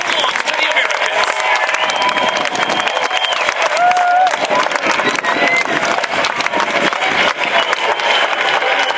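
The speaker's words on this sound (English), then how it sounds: "the fans at America's Cup Park begin to cheer" Fans at America's Cup Park cheer and applaud as a racing yacht finishes a race: a dense, steady roar of crowd noise with clapping and whistles, with talk mixed in.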